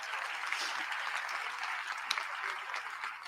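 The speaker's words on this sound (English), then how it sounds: "Please give a hand clap for my mother, Miss Catherine Alexander" Audience applause at a university Charter Day convocation, a steady, fairly faint wash of clapping that holds evenly throughout without voices on top.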